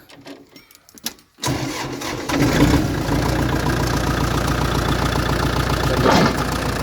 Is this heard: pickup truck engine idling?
yes